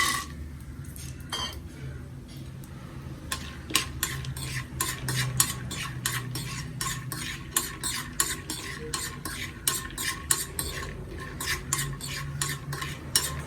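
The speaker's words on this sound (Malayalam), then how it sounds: "ഒരു പാൻ അടുപ്പിൽ വെച്ചിട്ടുണ്ട് അതിൽ രണ്ട് സ്പൂൺ നെയ്യ് ഒഴിച്ചു കൊടുക്കാം കപ്പലണ്ടി വറക്കാം" Peanuts roasting in ghee in a pan, stirred with a spoon: a steady run of close, crisp scraping and clinking strokes over a soft, continuous sizzle, with no voices.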